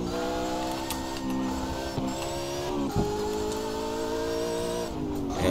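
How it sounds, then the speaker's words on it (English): Car engine and transmission in the CarX Drift Racing video game: a steady, droning engine note with a layered gear whine that holds and shifts pitch slightly, with a brief dip near the middle, alone without speech. "Man, I like the sound of the transmission."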